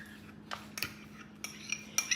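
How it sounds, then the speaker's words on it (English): A spoon clinks and scrapes against a bowl while mayo and sour cream are mixed, several short separate taps over a quiet hum, with no talking. "So we have some mayo and some sour cream, and we're gonna mix those together."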